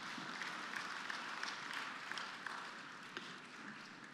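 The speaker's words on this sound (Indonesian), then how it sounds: "Tepuk tangan untuk Anda semua." Audience applause at the Anugerah Kebudayaan Indonesia 2024 cultural awards ceremony: a steady, fairly faint wash of many hands clapping that lasts the whole stretch without a break.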